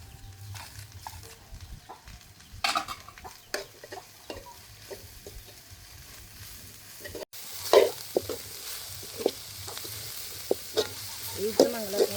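Ginger garlic paste frying in a pan for kothu roti, a soft sizzle with scattered scraping and stirring knocks, growing louder and more active partway through as the spoon works the pan.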